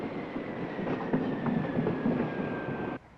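An intercity train running on rails gives a steady close rumble with a faint high whine, and it cuts off abruptly near the end.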